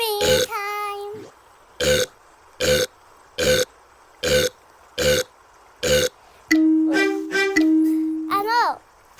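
Cartoonish burping sounds in the Dojo Islands video game, made by pizza: a string of about eight short, evenly spaced burps, then a longer, wobbling burp that rises in pitch at the end, loud and close.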